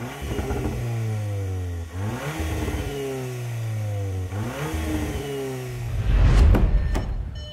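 A 2024 Volkswagen Golf R engine revving through its exhausts: repeated rising and falling engine pitch across several throttle blips, loud and close, ending in a brief throatier burst.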